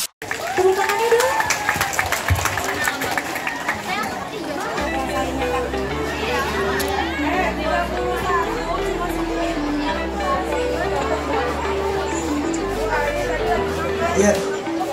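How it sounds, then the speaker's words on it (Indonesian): An audience at a school language-month cosplay competition claps, the applause strongest at first and then mixing with crowd chatter, voices and background music in a busy hall. "Tepuk tangannya dulu."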